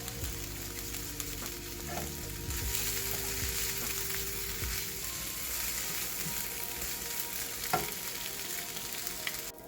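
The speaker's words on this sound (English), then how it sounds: "now that the onions have become a little brown and it's fried up really well" Onions frying steadily in a pan for a lion's mane mushroom stir fry, a continuous close sizzle with occasional stirring scrapes and clicks throughout.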